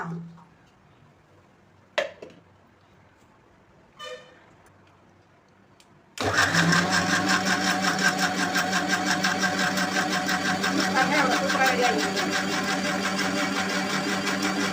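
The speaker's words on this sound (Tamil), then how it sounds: "இப்போ ஜூஸ் வந்து நம்ம மிக்சியில் சூப்பராக அடிச்சிட்டோம்" After a few scattered clinks, a mixer grinder starts abruptly and blends grapes, sugar and cashews into juice with a loud, continuous high-speed whirring roar that stays steady and close for the rest of the clip.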